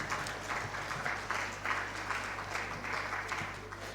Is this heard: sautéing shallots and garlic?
no